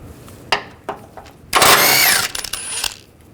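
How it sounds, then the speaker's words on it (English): A power tool with a 16 mm socket runs a bolt out of a Jeep Liberty engine shield in one loud, sustained burst of about a second, close by, with a few sharp clanks before and after. "I'm using a 16mm socket and then taking these bolts out."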